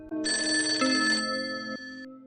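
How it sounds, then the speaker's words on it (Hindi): A telephone rings loudly and steadily for about two seconds with a bright, electronic bell-like tone, heard alone with no voices, marking an incoming call from a mother in a Hindi horror story. "एक दिन अर्जुन को उसकी माँ का फोन आता है।"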